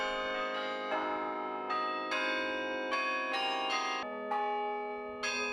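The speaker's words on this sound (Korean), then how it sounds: "카리용의 은은한 종소리는" Carillon bells in a tower, played with levers and pedals, ring out a slow melody of clear sustained tones, each strike blooming and overlapping with the last, resonant and moderately near with no talk.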